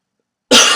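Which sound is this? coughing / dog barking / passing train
coughing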